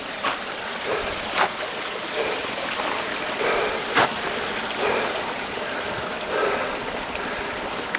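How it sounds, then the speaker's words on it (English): A stream of water running beside the Yosemite Falls trail, a steady rushing flow at moderate distance with a few brief sharper splashes or clicks over it, no one talking. "Sound of some water."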